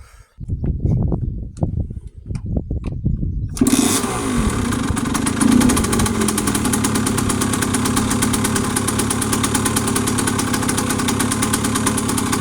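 Several thumping kicks on a motorcycle kick-starter with throttle blips, then the engine catches and settles into a loud, steady idle.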